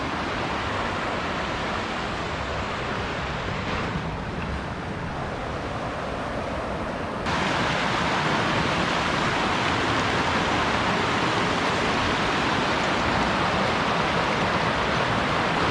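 Water in a Northern California mountain creek rushes steadily on a winter hike, a broad constant wash that swells a little louder partway through, with no talking.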